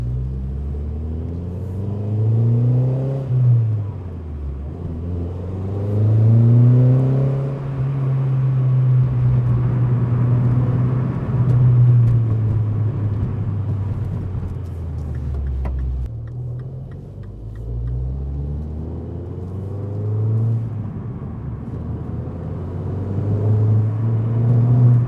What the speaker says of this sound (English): Let me just drive it for about a mile or so just to get the engine slightly warm.